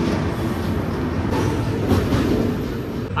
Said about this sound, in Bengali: আর এখন কিন্তু ঢুকছে ট্রেন এনজেপি জাংশন।